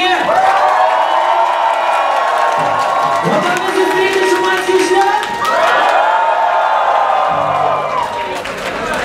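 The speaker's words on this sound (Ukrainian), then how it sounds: "хочу ваші оплески почути, що ви є!" A large open-air crowd at the Faine Misto rock festival in Lviv cheers, whoops and claps loudly and continuously, with shouting voices rising and falling over the din.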